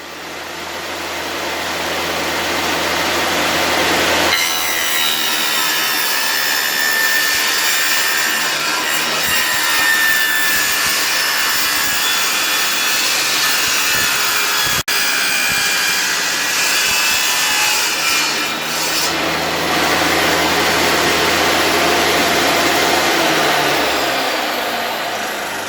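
Wood being sawn to make a pancake drum shell: loud, sustained rasping power-saw cutting running nearly twenty seconds, starting abruptly after a brief lead-in and easing off near the end, with no talking.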